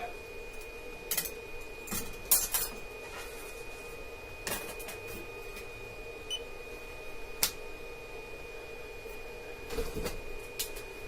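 TronXY X3S 3D printer running, steady motor drone and hum with scattered clicks and knocks, moderate level throughout with no talking.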